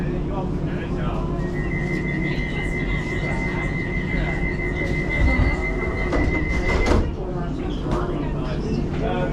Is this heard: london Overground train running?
yes